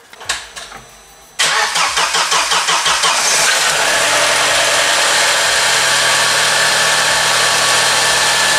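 VW Passat B5 fitted with a STAG 200-4 LPG system, the starter cranking in short bursts before the engine catches and settles into a steady loud idle, close by.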